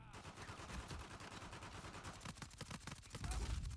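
A silenced P90 fires in Uncharted 4 multiplayer, with rapid bursts of soft, muffled shots rattling in quick succession at a fairly low level.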